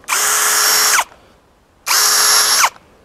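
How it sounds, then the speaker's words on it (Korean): Cordless hammer drill motor spinning at high speed in two separate bursts, each cut off abruptly as the electronic clutch halts it, with a quiet pause between. "트리거를 누르고 있지만 손목이 돌아가는 거를 인지를 해서 바로 멈춰줍니다"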